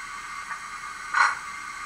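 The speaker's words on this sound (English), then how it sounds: "And uncoupling sounds like this." A short metallic clank with a brief hiss from a Bachmann Class 94xx model locomotive sound decoder, a single quick knock of coupling gear releasing, over a faint steady hum.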